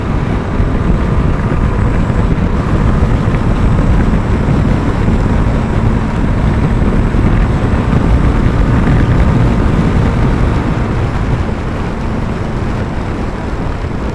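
Vehicle speeding up past 100 gives a loud, dense roar of engine and rushing wind noise, steady and continuous for the whole stretch, with no speech.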